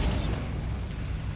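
Bombarda spell explosion in Hogwarts Legacy: a loud, close burst at the onset that settles into a sustained low rumble for the rest of the moment.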